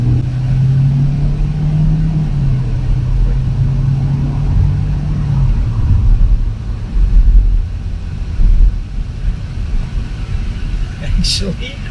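A 2022 Kia Forte LXS compact sedan accelerates in simulated manual mode. Heard from inside the cabin, a steady engine drone holds a tone, then drops as the gear shifts, all under constant road and wind rumble.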